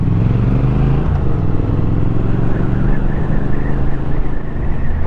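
Triumph motorcycle engine running loud and close, a steady deep rumble with rising revs as the throttle is opened, continuous throughout with no voices.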